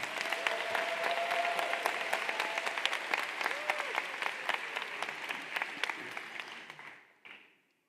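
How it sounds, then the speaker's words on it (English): Graduation audience in Baltimore applauding parents and families, a sustained broad wash of many hands clapping with a few whoops, steady for about seven seconds before quickly dying away. "if we could all give a big Baltimore City round of applause for our parents and families"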